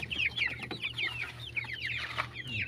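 Small chicks peep continuously, a dense chorus of high, rapid chirps from many birds close by, with no talking.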